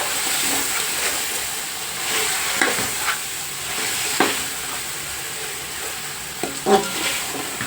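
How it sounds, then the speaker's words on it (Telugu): Spicy chicken dum biryani being stirred in a pot, with a steady low frying sizzle and several scraping stirs of the spoon breaking through, close and alone with no voices. "ఇదంతా ఒకసారి కలిసేటట్టు కలిపేసుకుని మూత పెట్టుకుని ఇది కాసేపు మగ్గనిచ్చేద్దాం."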